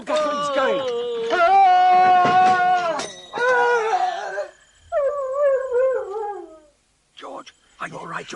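Several dogs howling in a radio comedy, long wavering tonal howls that overlap and then break into shorter yelping wails, loud and close, with brief voice-like sounds near the end.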